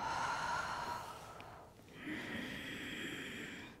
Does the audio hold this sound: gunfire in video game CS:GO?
no